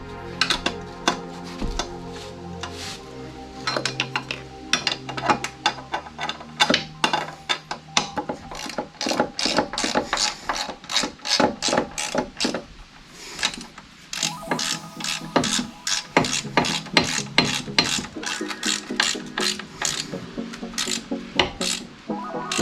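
A hand ratchet backs out 2 1/2-inch bolts on a BadBoy ZT Elite Limited zero-turn mower, with long runs of rapid, close clicking broken by short pauses and scraping of metal.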